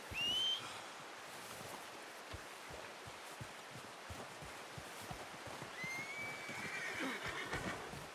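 Horse in Red Dead Redemption 2 whinnying in two bursts, a short one at the start and a longer one near the end, over steady rustling, soft hoof clops and outdoor ambience; no talk.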